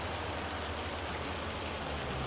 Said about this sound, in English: Well, the hail has arrived.